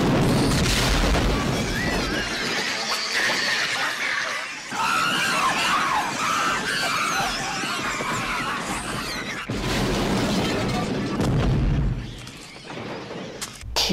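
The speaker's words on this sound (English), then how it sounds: "open up the gas valve, and light a match, and the building explodes a few times" A building blowing up several times in the film Gremlins, with loud, dense booms and crashing debris filling the scene, swelling and fading in repeated waves under a cinematic soundtrack, with shouting voices mixed in.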